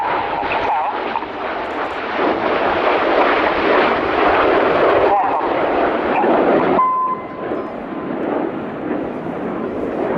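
Red Arrows jets roar through a flying display at the Royal International Air Tattoo, a loud, broad sustained rush that swells and dips, with a brief sharper tone near the end and commentary talk over it.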